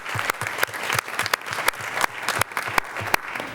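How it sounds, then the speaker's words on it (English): A school board meeting audience applauding, a moderate room of hands clapping in an even, continuous patter, fairly close, with no voices over it. "let's give them a round of applause as well"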